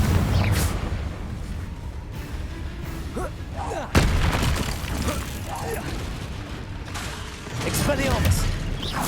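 Spell-blast explosions and combat effects from Hogwarts Legacy on PC, the Confringo blasting spell, with a sharp loud burst near four seconds amid a dense, continuous layer of game noise, crackles and shouted spell voices.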